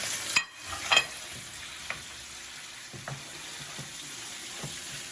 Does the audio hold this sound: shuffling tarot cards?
no